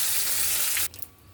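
Tilapia fish fry in hot oil with a loud, dense close sizzle that cuts off abruptly after under a second, leaving quieter room noise.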